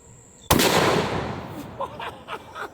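A single loud, close gunshot from a heavy-recoil firearm cracks out sharply and decays into a rumbling echo, followed by faint movement and murmuring.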